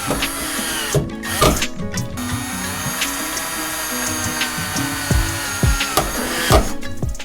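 A power drill bores holes in the deck lid of a red Acura RSX Type S for mounting an OEM DC5 Type R wing, its motor whirring in short bursts that rise and stop, with clicks and handling noises between.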